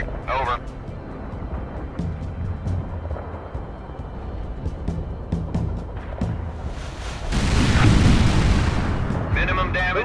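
An artillery barrage in World in Conflict, scattered booms under continuous radio-style talk, building to a heavy roaring burst of explosions near the end.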